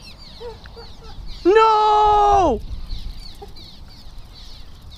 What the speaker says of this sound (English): you line drive a bird with your crankbait